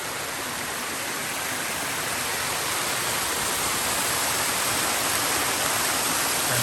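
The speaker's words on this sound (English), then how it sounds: "This is the waterfall that I heard." A waterfall near the Colorado River roars as steady, dense broadband rushing water, loud and constant throughout with no voices.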